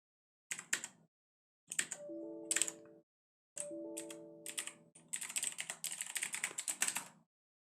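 Someone types a sudo command on a computer keyboard at a terminal: quiet, close keystrokes come in short clusters with pauses, ending in a quick run of taps.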